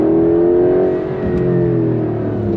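A 2025 Porsche 911 Carrera GTS accelerates hard through the gears, its loud engine note climbing steadily and dipping briefly at a shift before rising again. No one speaks.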